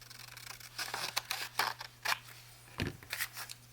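Scissors snipping through material for a patchwork journal cover, a run of crisp, close cuts in uneven rhythm with a few louder chops, over a steady low electrical hum.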